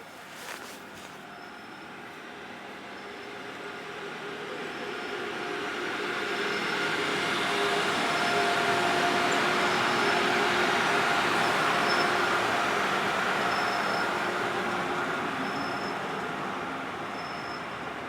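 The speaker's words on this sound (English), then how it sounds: "Our final scene shows the train on the approach to Porto Cerezio" A train approaching Porto Ceresio station on an Italian branch line, its rolling rumble gradually swelling from moderate to loud and holding steady before easing slightly, with faint high tonal squeals along the way.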